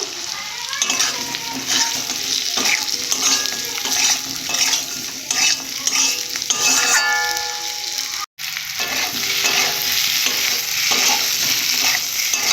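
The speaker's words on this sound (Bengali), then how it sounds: "কিছুক্ষণ ভেজে নেওয়ার পর বড়িগুলো দেবো দিয়ে ভালো করে কষে নেবো" Soy chunks (bori) are stir-fried with potatoes in a pan, with a lively sizzle and repeated scraping and clinking of a spatula. The sound drops out for a moment near the end, then the frying resumes.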